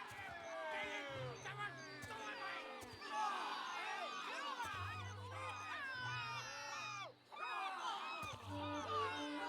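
Crowd murmuring in the fantasy video game Pillars of Eternity 2: many overlapping voices chatter and call out at once in a steady, busy hubbub that runs throughout, with a low hum underneath.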